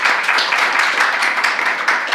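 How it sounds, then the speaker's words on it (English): A conference audience applauds the panelists with steady, dense clapping that stays loud and even for the whole stretch. "I just wanted to ask for a big round of applause for all our panelists again"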